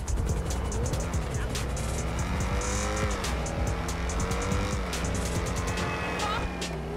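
A revving XA-21 supercar engine in GTA Online, with rising and falling engine tones as it accelerates and shifts, plus brief tire squeal, loud and continuous throughout.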